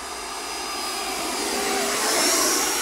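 A Dynam Meteor V3 70mm EDF jet RC plane with a 12-blade fan on 4S power flies over snow on skis, giving a steady high whine that swells slightly louder as it passes.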